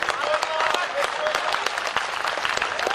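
A crowd at a Hindi comic poetry gathering in Bhopal claps steadily throughout, dense overlapping applause from a sizable audience, loud and continuous.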